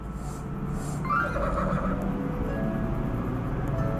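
A horse neighs in Mario Sports Superstars, a loud clear whinny rising and falling over about a second, set against steady game background sound.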